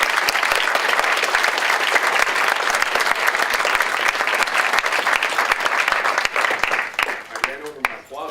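Audience applause after an award lecture, a dense, steady wash of clapping from a large crowd that holds strongly for about seven seconds, then thins and fades.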